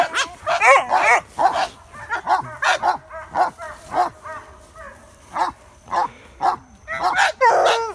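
Several dogs bark and yip in short overlapping bursts, fairly close, with excited whimpers between barks and some voices in the background, as they are fed goat meat.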